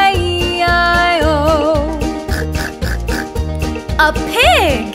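Children's farm song in which a singing voice imitates a pig with repeated oinks over a bouncy rhythmic musical backing, followed by a higher squealing cartoon-like pig sound near the end.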